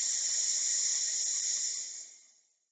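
A human voice imitates a snake's hissing with a long, loud, sustained "s" sound that holds steady for about two seconds before fading out, with no other sounds.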